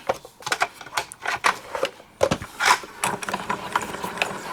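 A Spellbinders Platinum 6 Aqua Edition die cutting machine presses a thin embossing folder through, making a run of close, clicking mechanical rattles and ratchety knocks with short pauses, no voices over it.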